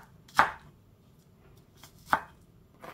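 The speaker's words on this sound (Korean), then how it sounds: "양파를 얇게 썰은 후 잘게 다져줍니다" A knife finely chops onion on a cutting board, two sharp, close, distinct strikes spaced well apart in an otherwise quiet kitchen.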